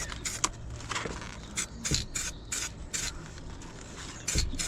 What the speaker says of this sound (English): just spray with this shape so you can just blend it in